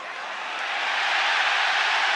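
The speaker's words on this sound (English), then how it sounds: "Listen to this crowd." Broad roar of an arena crowd at a UFC event in Abu Dhabi, swelling gradually and holding loud and steady, with no single voice standing out.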